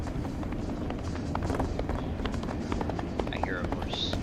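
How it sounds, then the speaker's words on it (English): Horse hooves approaching in the video game This Land Is My Land, a quick irregular patter of running steps under steady ambient noise, with a faint bird call near the end. "I hear a horse."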